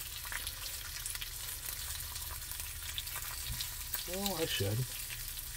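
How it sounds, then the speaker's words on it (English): Bacon strips sizzle and crackle steadily in a cast iron pan, a dense, continuous frying hiss that runs throughout, with a brief spoken voice near the end. "we're just going to take the bacon, put it in the pan to make sure it's all one layer only"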